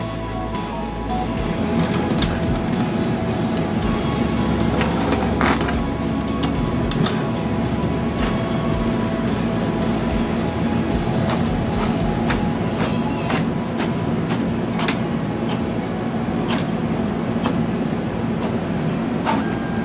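A Brother DCP-T710W printer makes a color photocopy with a steady mechanical hum and repeated clicks and clacks, continuous and close, with no talking.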